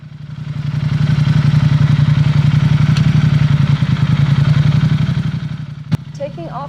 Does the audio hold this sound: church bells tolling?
no